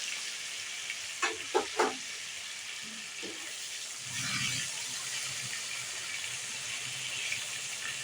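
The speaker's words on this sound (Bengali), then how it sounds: "টমেটোগুলো একটু কষিয়ে নেব।" Tomatoes and salt sauté in a pan while fish curry is cooked, a steady soft sizzle with a few clinks of a utensil early on and a brief louder fry burst midway.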